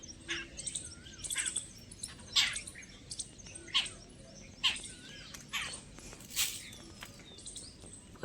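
Sparrows chirp in quick, repeated bursts of bright tweets, close by, with brief pauses and faint rustling in between.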